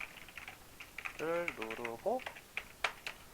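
Scattered computer keyboard key taps, light and irregular, with a voice speaking in the middle of the clip, while working in the Unity engine.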